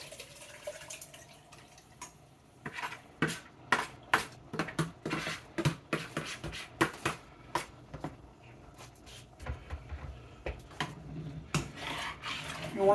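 Ingredients for a beefy yellow rice soup tumble and clatter into a pot, a run of sharp knocks and splashes against metal, close and fairly loud, with liquid sloshing between the hits and no talking.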